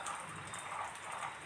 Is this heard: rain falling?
yes